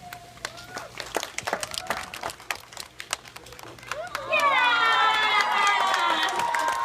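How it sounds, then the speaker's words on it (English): Applause and cheering burst out from an audience at a sea lion show, a loud sustained clapping swell that follows earlier talk and scattered crowd noise. "go ahead and give him a big round of applause"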